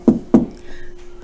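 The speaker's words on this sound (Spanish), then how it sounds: "llamaron a la puerta." Two firm knocks on a door, close and distinct, followed by a faint quiet tail.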